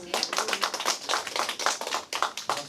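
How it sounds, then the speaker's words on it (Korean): Dense, steady clapping from a lecture audience welcoming a novelist guest speaker at a Korean humanities talk, filling the whole short stretch with a busy patter of hands and no voices on top. "박수 해주세요"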